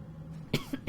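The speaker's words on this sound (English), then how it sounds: "Still got a bit of that cough." A person with a lingering cough coughs a few times in quick succession, short, close and fairly faint, with no talking.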